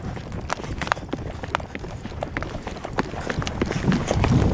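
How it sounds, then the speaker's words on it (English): A horse's hooves trot in a steady clip-clop rhythm, close and distinct, as the animal moves near a highway, with no talk. "we're trotting from the trucks back out across the highway"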